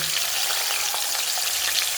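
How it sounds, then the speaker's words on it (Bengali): Cauliflower florets frying in leftover hot oil in a kadai for a vegetarian Bengali cauliflower-potato dish, a continuous close, bright sizzle with faint crackles and no voices. "ওই তেলের ভেতরেই ফুলকপিগুলো ভেজে নেব"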